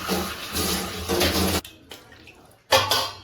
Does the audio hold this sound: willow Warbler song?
no